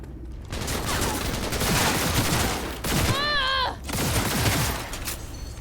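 Gunfire in the video game Cyberpunk 2077 comes as dense bursts of rapid shots that fill most of the stretch, with a short pause between volleys and a brief tonal effect in the middle.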